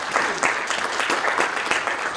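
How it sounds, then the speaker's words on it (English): Audience applause at the opening of an NYC LL97 compliance accelerator service provider expo and symposium, a steady, dense wash of many hands clapping throughout, fairly loud and close, with no talking over it. "Yeah, let's give them a round of applause."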